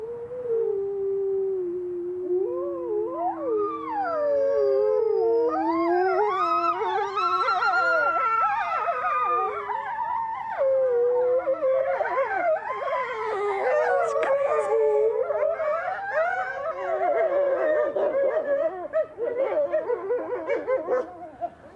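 Several wolves howl together in long, rising and falling wails that overlap and weave into a continuous chorus, loud and close.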